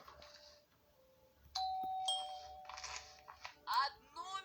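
Doorbell ringing in the video game Schoolboy, a sustained electronic chime tone lasting about half a second, followed by clattering game sounds and bursts of noise, with a voice talking faintly in the background.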